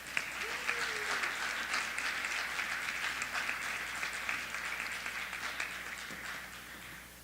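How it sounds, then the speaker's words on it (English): An audience claps through a steady, moderately distant round of applause at an evening judges' event, a dense even patter that fades slightly toward the end with no talking over it. "Please give her a round of applause."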